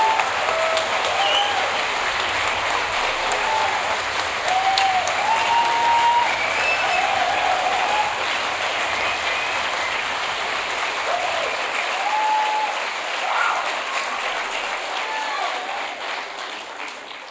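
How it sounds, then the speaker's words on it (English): Long, sustained applause from a large audience at a spring convocation ceremony honoring graduates, dense clapping at an even, loud level with faint cheers and voices mixed in, gradually thinning toward the close. "that was an amazing round of applause for our graduates"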